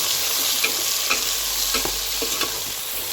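Vegetables for khichdi stirred in a hot pan, sizzling steadily with several distinct scraping stirs of the spoon, close up with no talking.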